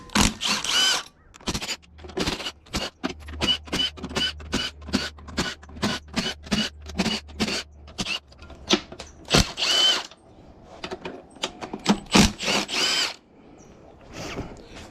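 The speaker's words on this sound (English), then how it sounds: "let's go ahead and start replacing these 12mm bolts" Power tool driving out and replacing 12mm bolts on a B18C1 GSR transmission, loud close bursts of ratcheting whirr in rapid repeated pulses with short pauses between runs.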